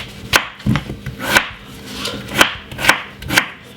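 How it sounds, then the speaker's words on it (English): Knife chopping potatoes into small pieces on a cutting board, a run of sharp, close knocks in an uneven rhythm, about seven chops with short gaps, no voices. "what we're going to do is cut them up very small like this"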